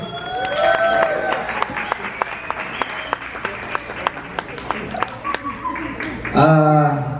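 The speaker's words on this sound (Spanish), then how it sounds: "un fuerte aplauso para ellos, por favor." An audience breaks into applause, a crowd of scattered, sharp claps rolling on for several seconds with voices talking over it and a surge of louder sound near the end.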